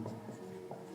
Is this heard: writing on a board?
yes